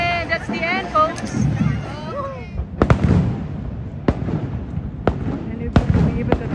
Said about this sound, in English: Fireworks just lit from here. The trees are blocking, but you still can see some of the fireworks.